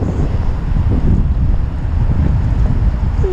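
Cold wind roaring hard against the microphone while riding a Onewheel outdoors, a loud, constant low rumble filling the clip with no talk.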